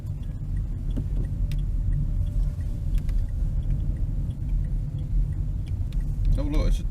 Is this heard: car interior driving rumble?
yes